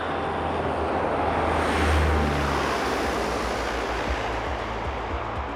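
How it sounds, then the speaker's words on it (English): An LC-130 Hercules military cargo plane drones through its flight in a steady, loud, broadband engine roar, heard from inside the aircraft with a slight swell partway through and no voices. "The LC-130 Hercules, affectionately known as the Herc, is not designed for comfort."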